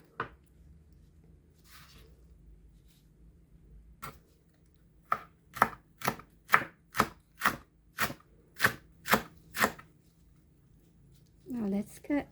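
A knife chops cabbage into thin slices on a board: about a dozen crisp, evenly spaced cuts in a steady rhythm, close and distinct, with a brief voice at the end.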